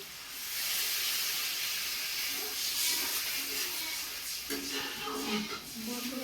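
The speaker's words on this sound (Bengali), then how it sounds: "দেখো এদিকে কিন্তু জলটা কিন্তু সুন্দর করে কিন্তু ফুটে গেছে।" Water boiling in a cooking pot during village-style posto paneer preparation gives a steady, close hiss and rolling bubble throughout, with some brief clinks and a voice speaking toward the end.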